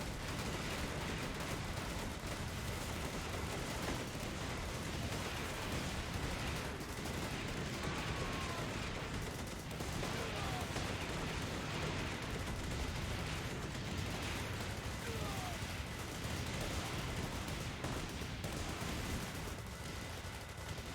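Defensive turrets in the strategy game Thunder Run: War of Clans keep up dense, continuous gunfire and artillery bursts, a steady loud barrage with no pauses.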